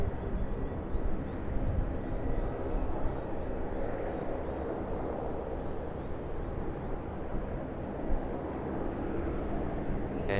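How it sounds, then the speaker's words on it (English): A Cathay Pacific Airbus A350 arrives at Sydney Airport, its steady broad jet roar holding loud and unbroken throughout with no voices. "the Cathay Pacific Airbus A350"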